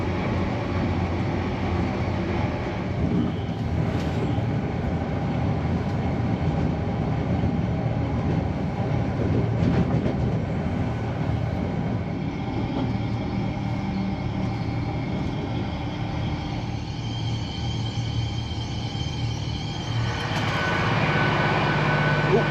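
An LNER passenger train runs steadily along the rails, a continuous low rumble and rolling clatter heard from inside the carriage, with no speech.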